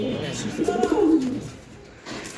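Racer pigeons coo in a low, throaty run of rolling calls, close and moderately loud, with a soft fade and a brief quieter gap before another murmur begins.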